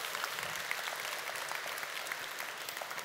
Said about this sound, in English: Big round of applause for Geoff, please.